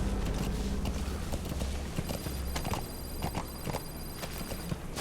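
Horse hooves gallop in Metal Gear Solid V: The Phantom Pain, a steady, close clip-clop rhythm over dense game ambience, with faint chimes partway through.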